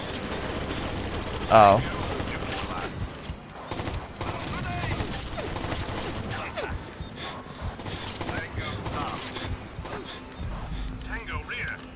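Gunfire in the tactical shooter Rainbow Six 3: Raven Shield on GameCube, sporadic shots and mechanical clatter running under steady game chatter and talk, with one sharper burst early on.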